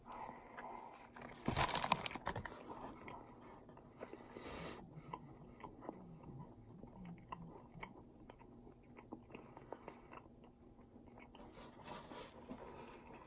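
Someone bites into a Burger King regular Whopper, with a crisp wrapper crinkle and bite near the start, followed by steady close, quiet chewing that keeps going at an irregular pace.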